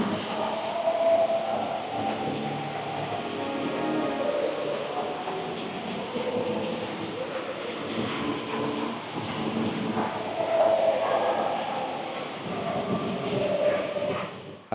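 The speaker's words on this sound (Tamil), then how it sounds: "இந்த ட்ரெயின் வந்து சிங்கப்பூரில் இருக்கிற ஏர்போர்ட்டில் இருக்கிற டெர்மினல்களுக்கு இடையில் பயணிக்கிறதுக்கு வந்து யூஸ் பண்ணுறாங்க" Inter-terminal airport train at Changi Airport, Singapore, heard indoors as a steady, moderately loud rolling rumble with faint rail clatter lasting the whole stretch, set within a busy echoing terminal hall.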